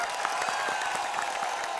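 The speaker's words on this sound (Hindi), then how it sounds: "जोरदार तालियां हो जाएं इनके लिए" Steady, dense applause and crowd noise from a studio audience at the X Factor India talent show, many hands clapping continuously at even loudness throughout.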